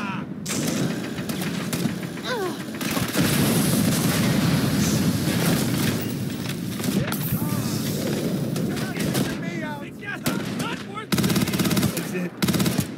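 Rapid automatic gunfire and bursts of shooting in the space game Starfield, loud and nearly continuous, with voices talking over the combat throughout.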